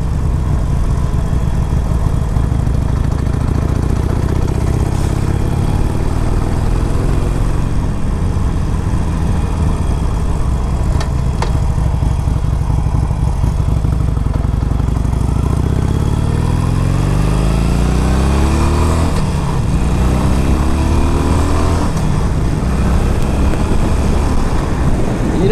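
A 2009 Harley Davidson 883 Sportster motorcycle rides along with a steady, loud engine drone and wind rush throughout, the pitch rising and falling as it pulls through the gears.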